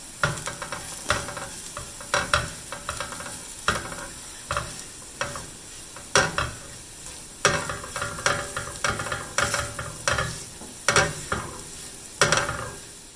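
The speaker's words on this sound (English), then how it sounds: "I'm gonna mix it up." Spiced cauliflower with coriander, cumin and garam masala fries in a pan while a spoon stirs it in repeated scraping strokes over a soft sizzle, with no talking.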